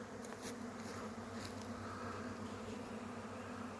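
A swarm of honeybees that has just left a beehive drones around the top of a tree, a steady low buzzing hum at moderate distance with individual bees passing closer now and then.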